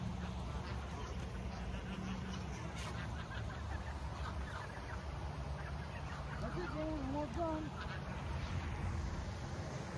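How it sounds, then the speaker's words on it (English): Ducks and geese quacking and honking as they are fed outdoors, several scattered calls at a moderate distance over a steady background hiss. "we just feeding the ducks"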